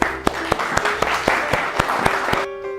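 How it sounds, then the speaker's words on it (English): A small group applauds a model at a photo shoot in New York City, with a steady patter of clapping and a few sharp claps close by before it cuts off. "Let's give Maddie a round of applause."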